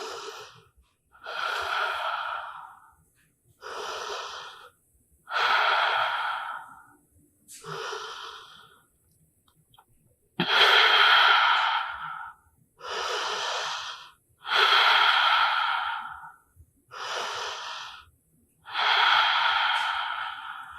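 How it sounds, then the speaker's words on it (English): Slow, deep breathing while resting in yoga child's pose during a full-body vinyasa session: about nine steady, close breaths in an even rhythm, each a soft airy rush with short quiet gaps between. "And breathe."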